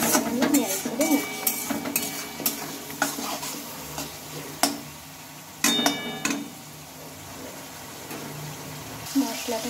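Spice masala with chopped tomato and salt is stirred in a hot pan, with repeated spoon scrapes and knocks against the metal over a soft sizzle, some strokes sharp and louder than others.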